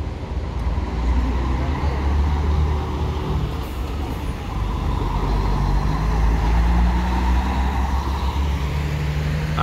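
A Planalto New G7 DD double-decker bus pulls into a bus station on arrival from Erechim, a loud, steady diesel rumble close by that holds throughout amid the general hum of the terminal.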